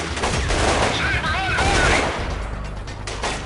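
Rapid bursts of gunfire in the video game Delta Force: Black Hawk Down crack loudly and repeatedly, overlapping into a dense fusillade, while a player's voice talks over the shooting.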